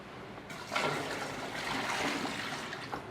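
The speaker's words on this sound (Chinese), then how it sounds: "在这个料桶里面放上一点清水" Clean water poured into the bucket of a pneumatic sauce-filling machine, a steady close splashing rush that starts after a brief quiet moment and continues to the end.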